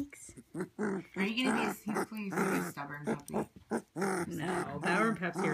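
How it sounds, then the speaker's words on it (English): An eight-day-old rottweiler puppy makes small whimpering, grunting sounds close up, with a person talking softly over and between them. "There's your first bark."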